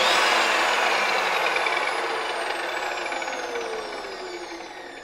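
An Evolution EVO SAW 380 circular saw motor runs at full speed, then spins down, its high whine steadily dropping in pitch and fading as it coasts.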